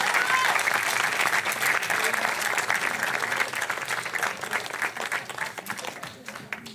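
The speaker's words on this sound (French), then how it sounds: "je vous demande de l'applaudir" A studio audience on a French TV talk show applauds warmly, loud and dense at first, then gradually thinning and fading, with a voice or two mixed faintly into the clapping.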